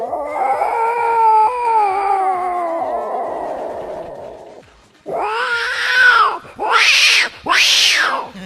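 A person imitates two angry fighting cats with loud, close yowls and drawn-out caterwauling moans, followed by sharp rising screeches in quick bursts.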